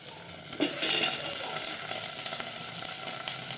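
Chopped eggplant pieces sizzle and fry in hot oil in a pan while being stirred, a steady close hiss with occasional utensil scrapes, for an eggplant gravy.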